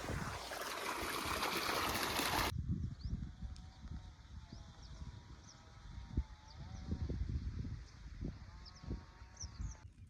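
Hot water gushes loudly from a pipe near a coriander field for a couple of seconds, then settles into a quieter flowing trickle with faint outdoor background sounds.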